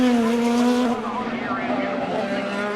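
An IndyCar locks a wheel at the St. Petersburg Grand Prix street race, flat-spotting the right front tyre with a loud, close, sustained tire squeal for about a second under engine noise, then continuing at speed.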